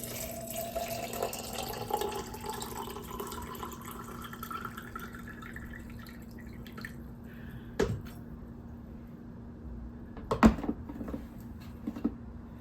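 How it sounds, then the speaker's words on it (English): Water is poured into a canning jar of chickpeas and salt in a kitchen, giving a soft, low trickle with a steady hum beneath, followed by a few sharper drips and clinks. "pour the water in to the jar"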